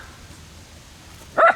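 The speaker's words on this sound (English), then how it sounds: "the dog's gonna bark at me until I feed him again" A dog at a fall lakeside campsite gives one short, loud bark near the end, after quiet ambient background.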